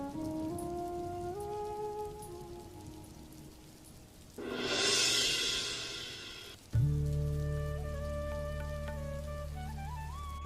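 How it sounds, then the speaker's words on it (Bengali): Music plays, then a brief burst of heavy rain hisses loudly for a couple of seconds before the music returns, louder and fuller. "কথা বলতে না বলতে বৃষ্টি শুরু হয়ে গেছে"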